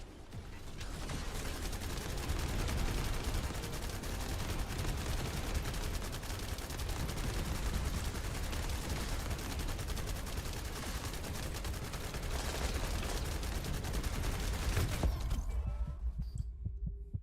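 Sustained rapid gunfire in The First Descendant, a dense continuous rattle of shots for about fifteen seconds before cutting off abruptly.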